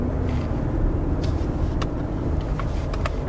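A Ford Explorer ST with a 400 hp engine drives along with a steady low engine drone and road rumble inside the cabin, plus a few faint clicks and brief shifts.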